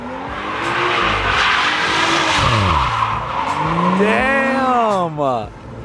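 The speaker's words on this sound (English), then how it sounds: "See the 435 do some donuts." A BMW 435 spins donuts, its tires skidding and squealing in long rising and falling sweeps over a steady engine roar, loud and close, with people talking over it.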